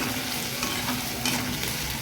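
Sliced onions and green chillies fry with salt in a hot pan, giving a steady crackling sizzle with faint stirring scrapes and no talk.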